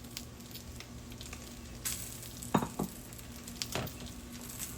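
Hilsa fish wrapped in leaves and cooked with mustard paste sizzles softly in mustard oil, a low, even crackle broken by a few sharper spits and pops.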